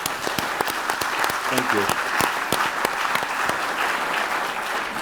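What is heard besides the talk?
audience applause at a summit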